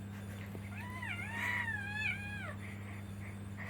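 A domestic cat lets out a few wavering, plaintive meows in quick succession, close by, over a steady low electrical hum in a quiet room.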